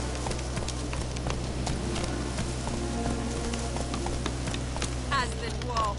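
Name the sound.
horse hooves galloping in a PS4 video game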